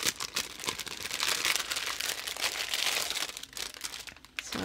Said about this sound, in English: It's a sticker, a floral sticker. Diamond floral sticker,